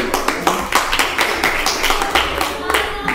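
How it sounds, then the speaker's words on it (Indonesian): Clapping from a classroom audience applauding a classmate after a school arts performance, a steady run of sharp hand claps across the whole stretch, with faint talk in the background. "Tepuk tangan untuk temanmu."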